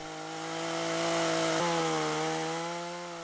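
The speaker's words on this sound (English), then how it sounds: "I'm staying about 1/4 of an inch away from it with the bar of the chainsaw" A chainsaw mills a flat side on a log, guided along a straight 2x4 tacked to the timber, at an off-grid cabin build. The engine roars at a steady pitch, loud and close, with a brief dip midway as the cut loads.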